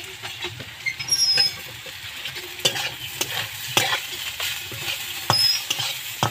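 Pasta fries in a pan with chilli, giving a soft continuous sizzle. Repeated scraping and stirring clicks from a utensil sit over it at close range, with no talking.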